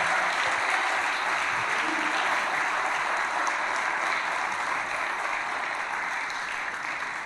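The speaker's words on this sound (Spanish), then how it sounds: "Vamos, dale palmas de alabanza al Espíritu Santo." A church congregation claps steadily in praise, a dense, sustained wash of many hands that holds at an even level for several seconds and tapers slightly at the end, with no speech over it.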